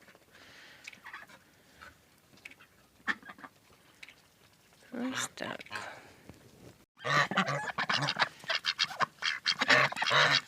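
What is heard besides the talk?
geese honking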